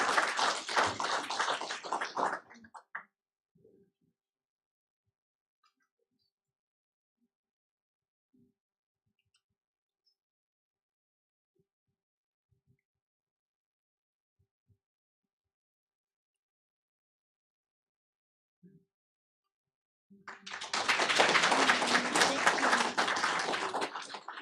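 Audience applause at a school board meeting honoring a teacher and student, a burst of clapping that fades into near silence, then a second loud round of applause rises near the end.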